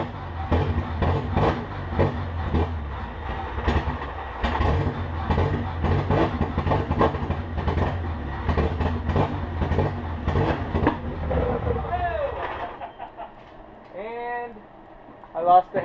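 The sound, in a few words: car engine cranking and firing with stock TSX electronics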